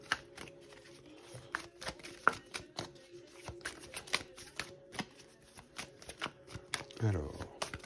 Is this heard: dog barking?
no